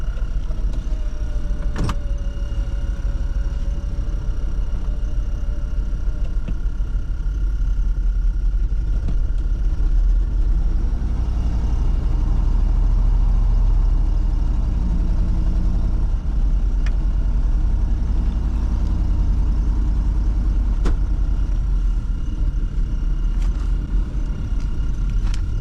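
A junkyard rollback truck's engine runs in first gear, a steady low rumble and drone continuing unbroken at close range, with faint mechanical clicks over it and no voices.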